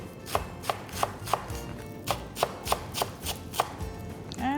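A knife chops spring onion greens on a board in about a dozen crisp, evenly spaced strokes, close and clear with no talking.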